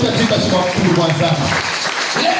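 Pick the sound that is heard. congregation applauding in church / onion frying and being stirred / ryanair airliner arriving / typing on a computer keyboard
congregation applauding in church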